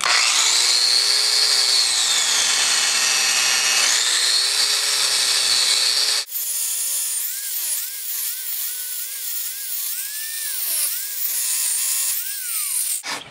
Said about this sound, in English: Let's try this grinder.